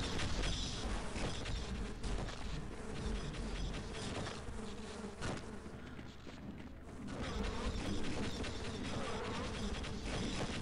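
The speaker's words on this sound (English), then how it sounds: "I need bees." Loud, dense swarm of buzzing bees in the video game Half-Life, a continuous droning hum that fills the scene with little letup, briefly thinning midway before swelling back to full strength.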